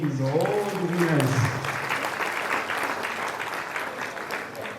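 An audience applauds award winners at a national journalism award ceremony, sustained clapping filling the hall while a voice speaks over the start.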